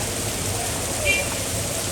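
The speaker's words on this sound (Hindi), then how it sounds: "बहुत ज़्यादा तेज़ बारिश है" Steady heavy rain hissing over a market in Tando Allahyar, Pakistan, across the whole clip, a dense continuous wash of noise with no breaks.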